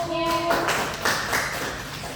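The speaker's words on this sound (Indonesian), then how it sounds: "beri tepuk tangan untuk kelompok 1" A classroom of students in Indonesia claps briefly for a presenting group, a short scattered burst of hands over a sustained tone, heard close and fairly loud.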